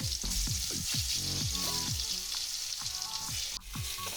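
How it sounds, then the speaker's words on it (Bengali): Eggplant pieces fry lightly in mustard oil in a pan, giving a steady close sizzle broken by repeated rhythmic stirring strokes. "এবার আমি বেগুনগুলোকে হালকা করে ভেজে তুলে নেব।"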